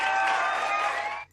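A crowd-cheering sound effect fired from a soundboard button, a loud burst of massed cheers and whoops that holds steady for just over a second before cutting off abruptly.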